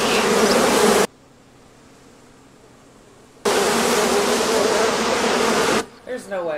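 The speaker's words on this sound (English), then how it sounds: "That's a lot of bees." A dense swarm of bees in the 1991 film Fried Green Tomatoes buzzes loudly and continuously, cutting out abruptly for a couple of seconds before the droning hum returns, with brief voices near the end.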